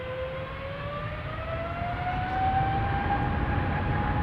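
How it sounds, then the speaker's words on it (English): Airbus A350-1000 engines spooling up on the center runway for takeoff at Amsterdam Schiphol, a steady rising whine over a broad roar that grows slightly louder, heard from a distance with no talk. "the A350-1000 that is next to take off from the center runway"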